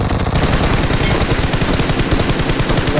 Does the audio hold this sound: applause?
no